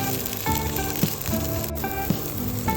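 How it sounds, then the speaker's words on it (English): Curry leaves and sliced onions sizzling in hot oil with cumin, a loud continuous frying hiss with occasional sharp pops and crackles close by, no voices. "here I'm going to add 3 sticks of curry leaves. And along with that, 2 medium-sized sliced onions."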